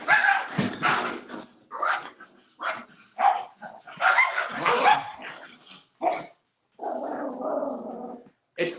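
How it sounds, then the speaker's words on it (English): A small dog barks and growls aggressively in sharp, close bursts with short gaps, ending in a longer snarling growl, loud and alone. "It's crazy when the little dog is the one that's hyper aggressive."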